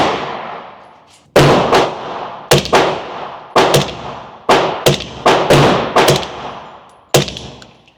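Five loud, close rifle shots from a 300 Blackout, fired at a measured pace a second or so apart, each with a sharp crack and a decaying echo, and no talk between them.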